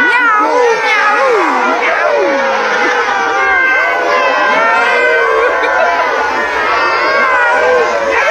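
A crowd gathered for World Laughter Day in Bordeaux imitates cat meows, with many voices yowling and mewing loudly at once in overlapping, rising and falling cries.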